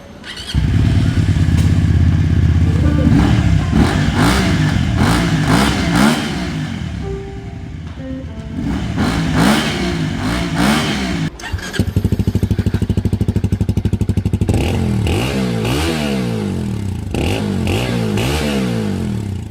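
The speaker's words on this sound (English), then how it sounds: "I'll just hop on the bike, we'll listen to the engine, and let's go for a ride" A VOGE CU250 motorcycle engine runs close up while riding, its loud droning note rising and falling as the throttle opens and eases, with brief gear-change dips and no talking.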